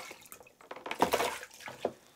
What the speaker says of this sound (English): I'm going to take my cold water. And I'm going to pour it over her feet.